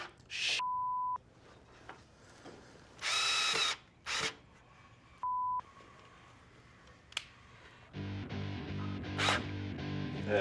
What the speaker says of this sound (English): screwing the top to the side piece